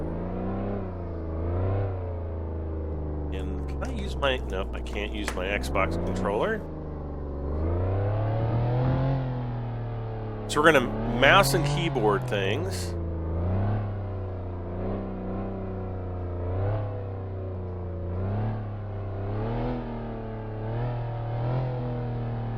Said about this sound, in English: I think I hit K to turn the car on